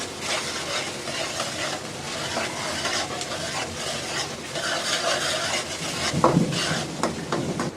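Onions fry in a pan on the stove, a dense steady sizzle and hiss running throughout while a utensil stirs and scrapes against the pan, with a louder clatter near the end.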